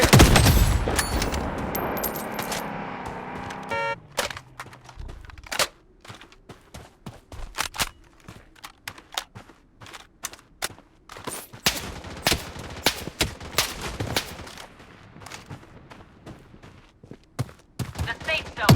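Gunfire in the Project BloodStrike video game: a dense loud burst of shots at the start, then scattered sharp cracks and rapid volleys of varying distance continuing throughout.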